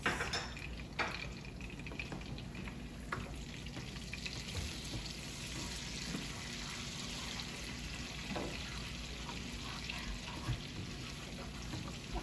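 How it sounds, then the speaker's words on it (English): Minced garlic fries in melted butter and olive oil, giving a steady, close sizzle with a soft crackle. It carries on without a break, with a few faint clinks from a pan and utensil. "I will add 1 teaspoon of minced garlic, and I'll let that fry for about 2 minutes"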